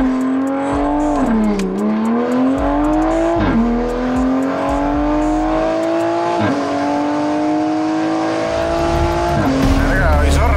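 A street race car pulls hard down a quarter-mile strip, its engine revving loud and climbing through several gear changes over a continuous roar, with a brief tire screech at the start.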